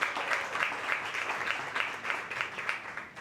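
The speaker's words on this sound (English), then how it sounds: "Let's give it up for Gigi, please, for a round of applause." Audience applause at a Latin cultural heritage event, a steady wash of many hands clapping at moderate loudness, dense and sustained throughout, fading slightly at the end.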